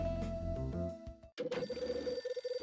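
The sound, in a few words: telephone ringing in the video game Last Window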